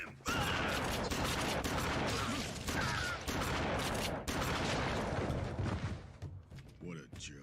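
Sustained, dense gunfire in the video game Elite Dangerous, rapid overlapping shots with brief pauses across several seconds, loud and close, with voices mixed in.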